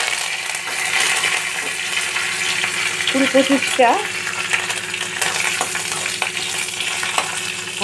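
A spice tempering fries in hot oil on lowered heat for an ash gourd leaf dish, giving a continuous close sizzle with brief stirring clinks partway through.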